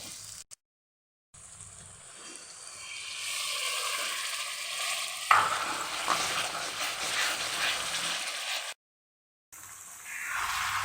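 Spice masala with tomato puree frying for a chicken curry, a steady broad sizzle that swells midway and runs on with occasional clinks, broken by two short silent gaps.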